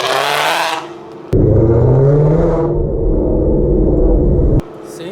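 A Ford Mustang engine, modified to shoot flames, revs hard nearby outdoors, a loud steady roar that rises, drops back briefly and surges again, with rough rumbling throughout.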